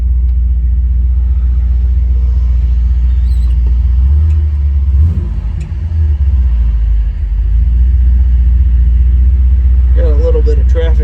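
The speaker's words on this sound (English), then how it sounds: "we're going to take this 1962 Chevrolet Biscayne for a test drive" 1962 Chevrolet Biscayne with a 409 V8 on a test drive, loud steady low engine rumble throughout with a brief rev surge midway, close to the microphone, and a voice near the end.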